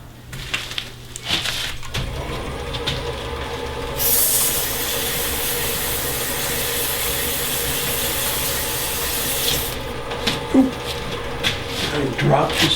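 Sandpaper hisses against a spinning wooden piece on a woodturning lathe, a steady bright rushing sound over the lathe's low motor hum, starting after a few seconds of quieter shop noise and easing off near the end.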